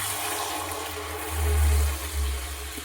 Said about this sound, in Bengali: এবার এর মধ্যে সিদ্ধ করে রাখা ডালটা দিয়ে দেব